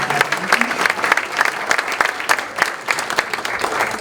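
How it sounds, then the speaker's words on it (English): An audience at a Cincinnati Rotary club meeting claps warmly, with dense, sustained applause lasting several seconds. "Let's give her a big round of applause."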